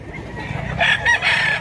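A rooster at a Mantalungon, Cebu gamefowl yard crows loudly and close in a single drawn-out call, with no one talking over it.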